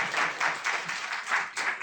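Applause at a school board budget public hearing, a short burst of clapping from a small crowd in a hall, moderately loud with no talk.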